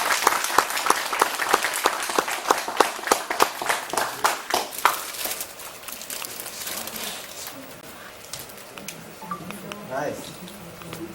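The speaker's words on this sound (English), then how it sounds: "Let's give it a big round of applause." Applause at a peace-and-unification speech contest in Seattle, starting with loud distinct claps in a quick rhythm, then thinning and fading into quieter room sound as a voice speaks faintly near the end.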